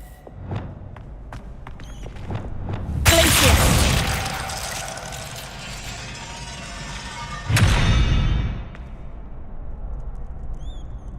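Bombarda spell explosions in Hogwarts Legacy, two loud booming blasts a few seconds apart, each fading into a rumbling tail over quieter game sounds.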